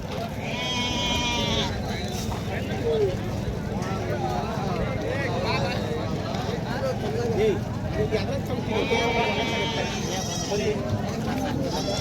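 Sheep bleat repeatedly over a busy crowd murmur at a Saturday sheep and goat market in Amingad, Karnataka, with voices talking throughout.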